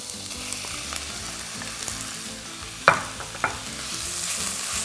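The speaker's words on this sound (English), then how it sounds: "So now it's time for the meat to go in the pan." Pieces of lamb for an apricot dish frying in a hot pan, a close, steady sizzle broken by a couple of sharp clatters from stirring or moving the meat.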